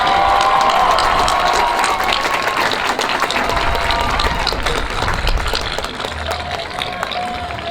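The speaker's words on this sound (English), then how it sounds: "give them a round of applause" Audience applause rings through a graduation ceremony in a stadium, seniors clapping for faculty and staff; loud, dense, sustained clapping with some cheering throughout, easing slightly toward the end.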